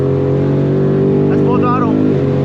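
Ford Mustang engine at full throttle, a loud steady drone with strong harmonics rising in pitch as it accelerates, heard up close from inside the car with a person briefly talking over it.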